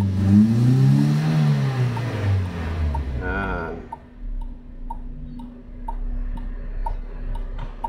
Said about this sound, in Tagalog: galit na yung makina niyan.